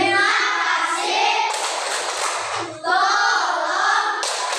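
A fifth-grade Indonesian class claps a 'magic words' rhythm together, with steady group clapping under sustained children's chanting voices throughout.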